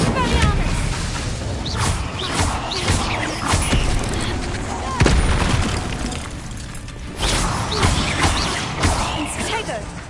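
Spells Incendio and Expelliarmus cast in combat in the video game Hogwarts Legacy, loud repeated booming blasts and crashing impacts over a dense, continuous battle din.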